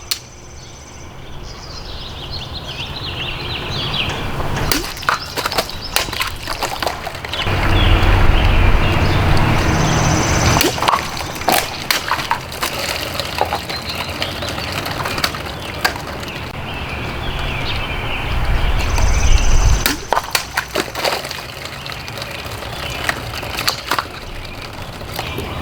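A Cold Steel Espada XL folding knife slashes through plastic bottles outdoors, giving a run of sharp, loud cracking impacts spread irregularly over a steady background, with some louder stretches of rough noise between the hits.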